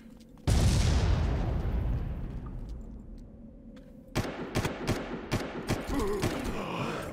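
Gunfire in the Far Cry video game inside a catacomb: one heavy boom rings out and slowly fades, followed a few seconds later by several loud, rapid bursts of shots.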